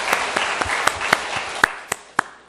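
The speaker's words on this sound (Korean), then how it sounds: "하나님께 영광의 박수 올려드리겠습니다." A church congregation claps in a short, sparse burst, with a few sharp individual claps standing out over softer scattered applause that fades quickly.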